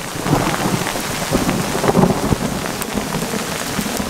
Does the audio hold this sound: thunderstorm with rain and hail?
yes